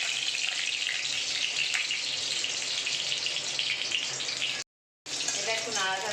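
Whole dried chilli and bay leaf sizzle and crackle in hot oil in a pan while being stirred, a steady bright frying hiss broken by a brief silence near the end.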